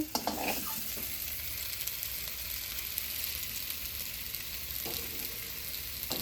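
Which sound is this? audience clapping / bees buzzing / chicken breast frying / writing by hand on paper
chicken breast frying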